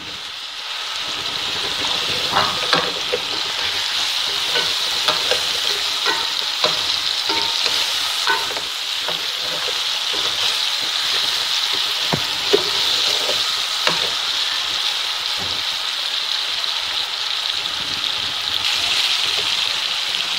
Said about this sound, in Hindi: ये फिश हम इसमें डाल के फ्राई करेंगे।